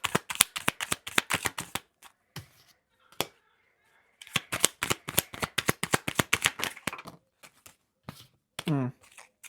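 Tarot cards are shuffled close up in quick riffling bursts of crisp rapid flutters, separated by short pauses and a few single card taps and snaps, with a voice speaking briefly near the end.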